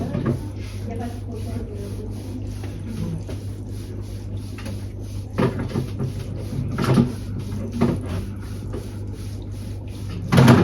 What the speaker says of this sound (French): J'ouvre le tiroir, je le mets dans le tiroir.